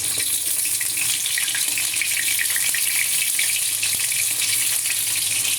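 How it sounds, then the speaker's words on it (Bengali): Fish frying in a kadai, a loud, dense, continuous hiss and crackle of hot oil heard up close with no pauses and no voices. "মাছ ভাজছে।"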